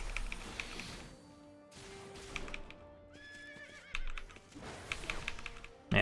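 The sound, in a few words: horse neighing, from a video game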